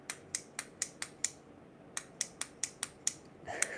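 A folding knife is flicked open and shut like a fidget toy, producing a rapid series of sharp metallic clicks in two quick runs of about six, close and crisp, with a brief pause between runs.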